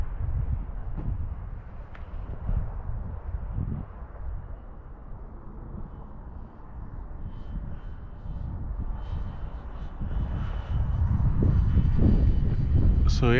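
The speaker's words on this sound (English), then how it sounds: "you can hear the propeller, but it's just not super loud like on a flying wing" A propeller-driven model F-16 plane flies overhead, its propeller a modest whirring drone that fades and swells with distance and grows louder near the end, under faint background talk and wind.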